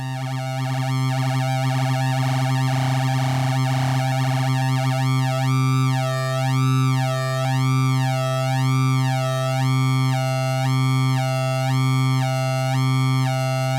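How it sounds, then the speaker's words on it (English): A synth tone runs through a Reason trancegate. A sine shaper drives its LFO faster, so a steady warbling modulation grows into quick, wide, looping sweeps. It stays loud and continuous with no voices. "The sine shaper adds high harmonics, which actually speeds up the LFO very quickly."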